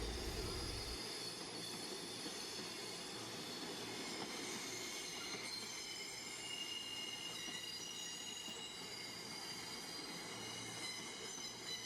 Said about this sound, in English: today I'll be travelling on a much older and frankly much nicer high-speed train